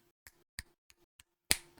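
A handful of crisp finger snaps, close and dry in a quiet room, spaced irregularly before one louder final snap that rings a little longer.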